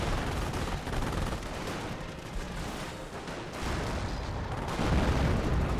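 A 25-pounder artillery barrage in the Company of Heroes video game, heard as a dense, continuous roar of overlapping shell blasts and rumbling impacts that stays loud throughout without pause.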